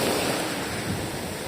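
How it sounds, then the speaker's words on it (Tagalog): Ocean waves at sea during a fishing trip, a loud continuous surging wash of water churned with heavy wind buffeting the microphone, no voices. "Basta ng alon."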